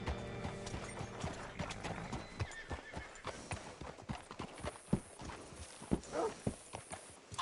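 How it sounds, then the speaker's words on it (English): Horse hooves clip-clop in Red Dead Redemption 2, a near run of uneven, fairly rapid hoof thuds with a brief whinny, over a soft game background. "Hitch your horse up here."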